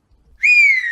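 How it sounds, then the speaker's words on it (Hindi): A young woman whistles one loud, sustained note that starts abruptly and holds briefly with a slight downward drift, alone and close by. "सास को देखते ही दोबारा सीटी बजाने"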